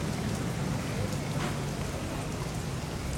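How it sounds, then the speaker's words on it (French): Steady rain pours down in Rangoon, Burma, a dense, constant hiss of drops at close range with no pauses. "Ici, on vit avec la pluie, on s'en accommode."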